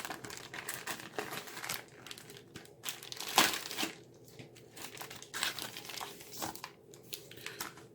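Crinkling plastic Ziploc bag holding a Slovenian Type C 12-hour ration meal, handled up close, with irregular rustling and crumpling bursts through the whole stretch and a sharper crackle midway.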